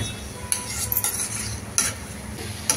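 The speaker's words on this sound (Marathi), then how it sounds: "आता मी चांगलं हलवून घेते" Onion being stirred in oil in a pan for a spicy tomato thecha, with a steady soft background and a few sharp utensil scrapes and clinks against the pan.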